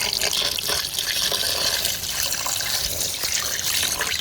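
Water pours and splashes steadily from a tap onto turmeric-coated fish being rinsed, a continuous rushing hiss with no pauses.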